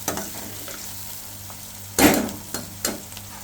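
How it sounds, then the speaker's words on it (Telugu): Onions fry in oil in a pan, a close, steady sizzle with a sharp stirring scrape and a couple of brief crackling bursts. "ఆనియన్ని బాగా వేగనిచ్చి"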